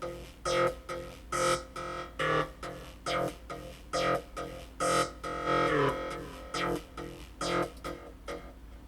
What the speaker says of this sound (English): So I'm treating this as a bass line.